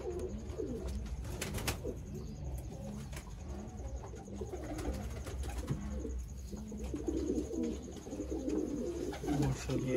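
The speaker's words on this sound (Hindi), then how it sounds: "प्रवासी कबूतर ये जनाब जो अभी मैंने उड़ा के गोल किया है" Pigeons cooing at a pigeon-keeping loft in Sialkot, repeated soft throaty coos from several birds overlapping throughout, fairly close, over a low steady background rumble.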